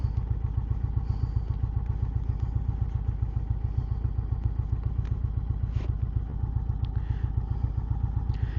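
An Indian Chieftain 116 Thunderstroke V-twin motorcycle engine idles steadily with a deep, loping pulse and light mechanical clatter, close and continuous with no voices.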